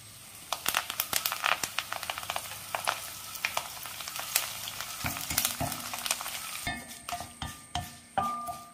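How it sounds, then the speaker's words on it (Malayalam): Curry leaves frying in a pan of hot oil, crisp crackling pops and sizzle with scattered sharp bursts and stirring scrapes, close up and without speech. "ഇനി അതിലേക്ക് കറിവേപ്പിലയെ വറുത്തെടുക്കാം."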